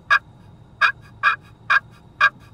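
A wild turkey hen calling on public land during a hunt: five evenly spaced, raspy yelps, close and clear, with a quiet outdoor background and no talk.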